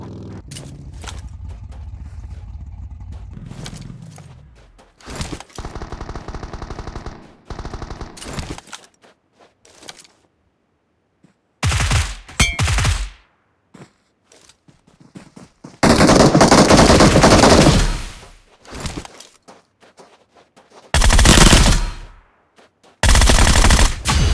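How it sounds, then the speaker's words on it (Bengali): Bursts of gunfire in the PUBG Mobile game on the Livik map, with loud automatic volleys that come in separate clusters broken by short pauses, alongside other game sounds. "হঠাৎ পেছন থেকে গুলির শব্দ"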